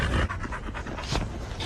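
A dog pants in rhythmic, breathy bursts, fairly close and steady, with no speech over it.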